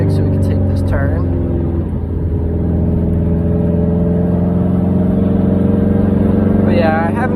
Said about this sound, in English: Hit that second gear downshift real quick so we can take this turn.